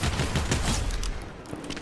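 Gunfire and grenade blasts in a Fortnite Zero Build match: dense, continuous bursts of shots and booming explosions fill the whole stretch, loud and close, easing slightly near the end with a few scattered pops.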